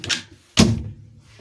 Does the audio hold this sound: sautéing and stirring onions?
no